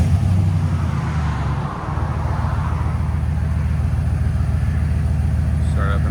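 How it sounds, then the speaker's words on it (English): 2022 Jeep Wagoneer with a 5.7L HEMI V8, Valvetronic Designs valved exhaust with true duals and the valves closed, starting up then settling into a steady, close, muffled idle rumble, with no talk. "Start up and idle."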